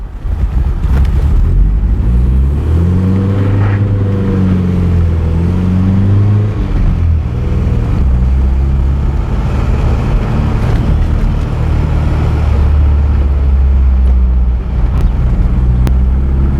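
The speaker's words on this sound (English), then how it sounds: "Yeah, this car runs really, really bad. It's really, really lean." A 1997 Nissan pickup engine running lean with a fuel delivery problem, a loud close idle with an uneven, wavering hum that rises and dips in pitch, steady for the whole stretch.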